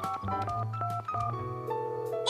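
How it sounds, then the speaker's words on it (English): A rapid sequence of electronic telephone keypad tones as a number is dialed, several distinct beeps of different pitches following one another, fairly loud over a soft musical background. "Can I call Clementine, Mommy?"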